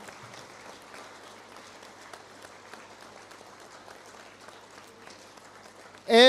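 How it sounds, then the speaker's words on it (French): An audience applauding at a labour gathering, a soft dense patter of many hands clapping that runs steadily throughout at moderate distance, with a loud burst of sound cutting in at the very end. "Et nous applaudissons nous tous"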